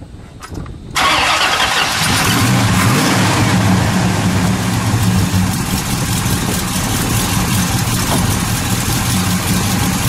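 A 1972 Oldsmobile Cutlass Supreme convertible cranks briefly, then fires and settles into a steady, loud, rumbling idle that continues to the end.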